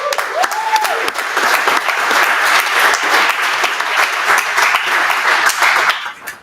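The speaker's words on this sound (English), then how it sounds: "So let's give it a round of applause." An audience at a college AI center event gives a loud, dense round of applause, sustained evenly for several seconds before tapering off at the end, with a brief voice at the start.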